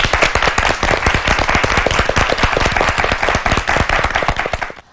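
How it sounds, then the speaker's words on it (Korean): A room full of people at a high school debate competition claps loudly and quickly for several seconds before the applause abruptly stops. "박수로 환영해 주시기 바랍니다."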